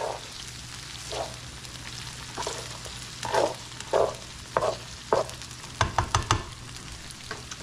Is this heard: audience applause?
no